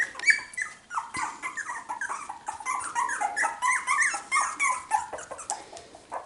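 A litter of four-week-old Cockapoo puppies whimpers and yips close by, with overlapping high, thin cries and small growls rising and falling in uneven bursts.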